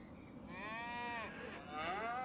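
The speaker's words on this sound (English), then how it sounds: "we got 5 cows, so this is how the cow pasture or cow pen's going to work" Cows in a pasture pen on a farm in Farming Simulator 25 give two drawn-out moos in close succession, fairly quiet and without talk.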